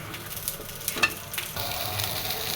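Potatoes fry in a pan with a steady, close sizzle and faint stirring scrapes, a few brief louder crackles near the start, and no talking.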